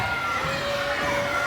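A wrestling arena crowd roars steadily and evenly throughout, a broad wash of cheering that is fairly distant and moderately loud, with no clear peaks.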